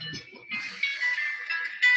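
A phone rings nearby with a steady electronic tone that continues for a couple of seconds after a brief, faint sound at the start. No voices are heard.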